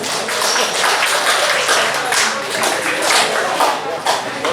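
Audience applause fills a church during a parish celebration of a pastor's 40 years of priesthood, a steady dense wash of many hands clapping, fairly loud and continuous throughout.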